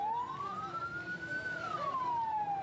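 An ambulance siren wails steadily, rising and falling in one long sweep, as the ambulance sits trapped in a roadside blockade set up by protesting truck drivers, with road rumble underneath and no voices.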